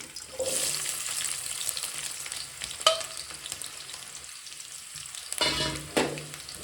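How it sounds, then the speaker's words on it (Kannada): Chopped onions sizzle in hot oil in a pan for egg rice, a steady close frying hiss with occasional stirring scrapes and a brief clatter near the end. "ಚೆನ್ನಾಗಿ ಫ್ರೈ ಮಾಡ್ಕೊಳ್ಳಿ ಈರುಳ್ಳಿನ ಎಣ್ಣೆಯಲ್ಲಿ"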